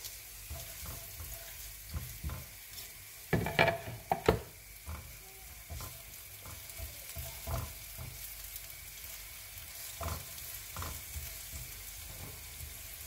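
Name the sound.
onion frying in oil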